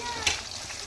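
Chicken pieces coated in crumbs frying in a pan, a steady low sizzle running under the moment with a brief stir or clink, close and moderate in level.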